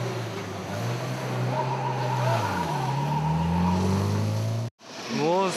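Subaru Impreza race car pulling into the pits: a loud, close engine drone rising and falling in pitch as it slows, then a brief cut followed by a short wavering whine.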